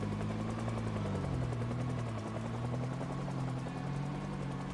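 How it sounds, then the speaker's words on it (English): A helicopter in the Project Zomboid game thrums overhead, a steady low rotor drone with pulsing chop that stays loud and even throughout. "This is my first helicopter on the server."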